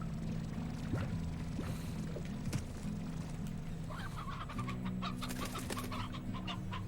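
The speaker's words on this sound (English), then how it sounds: "That's a lot of chickens." Chickens cluck in the Slime Rancher video game, a steady flock chatter of clucks and short calls over a constant low hum, fairly quiet throughout.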